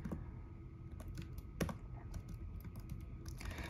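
A gamer types rapidly on a computer keyboard, producing close, crisp clicks in uneven bursts over a faint background hum, with no talking during the keystrokes.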